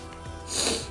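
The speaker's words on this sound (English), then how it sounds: "I'm just sniffling" A person sniffles while preparing a tuna dish in a kitchen: a short, breathy nasal sniff rising in the second half, close and fairly faint.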